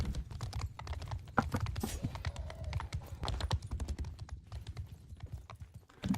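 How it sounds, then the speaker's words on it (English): Horse hooves clip-clop at a steady gallop during a competitive online video game match, a continuous rhythmic clatter heard alongside other game sounds and faint voices. "Gets a teammate on Knight's horse there"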